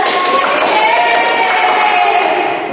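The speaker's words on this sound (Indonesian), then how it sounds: "Tepuk tangan buat kelompok 2" Classroom applause for a small student group during a maths lesson, a steady, fairly loud wash of many hands clapping together with murmuring voices under it.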